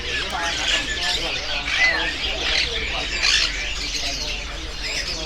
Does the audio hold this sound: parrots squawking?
yes